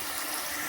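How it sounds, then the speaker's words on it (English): Hot water running from a tap into a kitchen sink as it fills, a steady broadband rush without pauses or talk. "sink, my kitchen sink, with some hot water"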